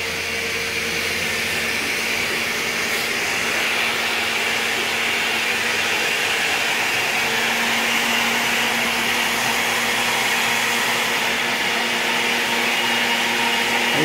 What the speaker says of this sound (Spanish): Solo las semillas están licuando todavía